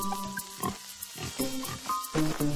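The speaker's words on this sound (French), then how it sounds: "Le voilà. C'est le cochon." A pig grunts and snorts in a run of short, irregular bursts, close and fairly loud, with no one talking over it.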